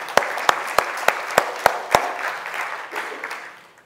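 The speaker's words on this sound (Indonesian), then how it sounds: "Ya, tepuk tangan." Applause rings out in a church during a Sunday service, opening with several sharp, evenly spaced claps before spreading into a burst of crowd clapping that fades away.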